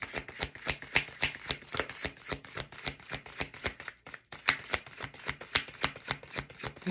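A deck of playing cards being shuffled over and over, a steady run of crisp riffling bursts close by with a brief pause partway through, no talk.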